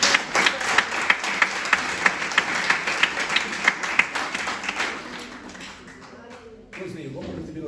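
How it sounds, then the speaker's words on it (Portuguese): Congregation applauding in a church service, with rhythmic unison claps ringing out over general clapping, then thinning and fading into quiet room sound and a faint voice. "E um aplauso para Jesus."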